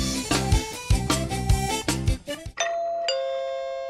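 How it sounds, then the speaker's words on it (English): A doorbell rings with a clear two-tone ding-dong, its chimes ringing out after a stretch of loud music. "Ah, the sound of my doorbell."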